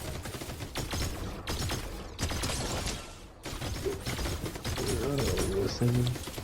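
Video game gunfire crackles in rapid bursts and volleys, mixed under several people talking over one another.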